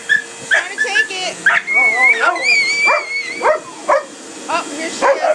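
A dog barks and whimpers in a run of yips, whines and sharp barks, loud and close, mixed with excited human talk throughout.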